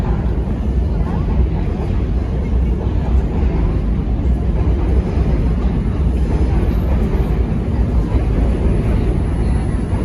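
An Enviro400 double-decker bus on route BL1 pulls away from Waterloo Station on Waterloo Road, a loud, continuous low engine rumble with street noise that stays close for the whole stretch.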